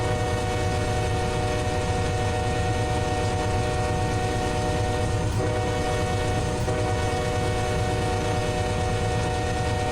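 Intermodal freight train labouring up a grade, a loud, steady, close rumble of engines and rolling cars with a sustained droning tone, continuous and unbroken throughout.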